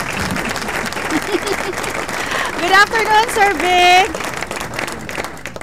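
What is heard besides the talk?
applause sound effect on radio show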